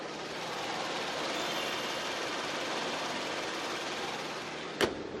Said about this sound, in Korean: 그럼 바로 영상으로 엔진 소음 한번 담아보도록 하겠습니다